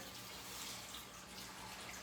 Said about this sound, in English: Okay, I poured half the bag.